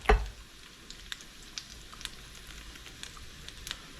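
A Korean fish cake drops into hot oil with a sharp thump, then fries as a soft, continuous sizzle with scattered small pops, close and quiet.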